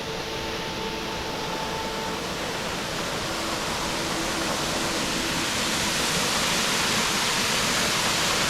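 A waterfall at the end of a short hike through a fern-filled gully along the Great Ocean Road in Australia: a continuous, broad rushing roar, steady and fairly close, with no voices.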